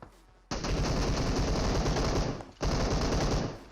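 SKS rifle fire in PUBG Mobile comes as two long, dense runs of rapid, loud, close shots, separated by a short pause, with no talking.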